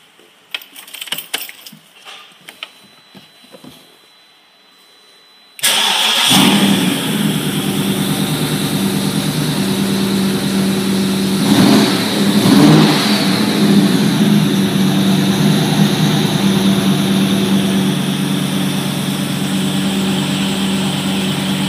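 A sports car engine at a Morgan and Lotus dealership cranks with a few sharp starter bursts, then catches and settles into a loud, steady idle with a brief swell of revving partway through.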